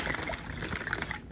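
Water is poured into an MRE flameless heater bag to warm a drink, a soft, brief trickle and splash heard quietly at close range.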